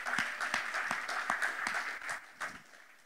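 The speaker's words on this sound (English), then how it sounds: "Well, yeah, you can clap, because that's awesome." Young adults at a Christian church gathering break into a brief round of applause, faint and somewhat distant, with scattered claps fading out over a few seconds.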